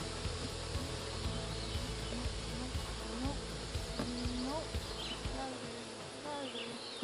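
Honey bees buzz around hives outdoors in a dense continuous hum, with individual bees droning past close by, shifting in pitch as they fly.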